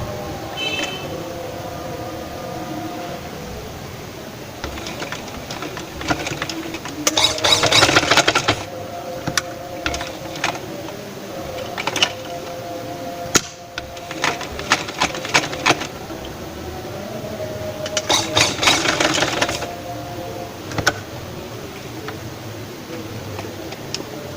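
A sewing machine stitches piping trim in short runs, its rapid mechanical ticking starting and stopping several times amid quieter handling noises, fairly close and moderately loud.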